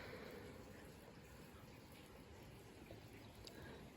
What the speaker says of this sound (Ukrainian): Чую звук води, яка стікає з дахів.